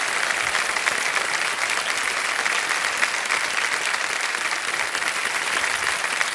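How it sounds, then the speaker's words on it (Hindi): Dense, steady applause from the studio audience of the Indian quiz show KBC for a contestant who has just won a prize, loud and sustained without a break. "हर तालियां बज जाएं जोरदार इनके लिए"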